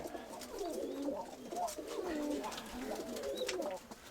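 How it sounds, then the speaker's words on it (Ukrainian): Pigeons of a Mykolaiv breed coo close by in a loft, a steady series of soft rolling coos that continues for several seconds without pause. "Вот такой голубь, это вообще редкость."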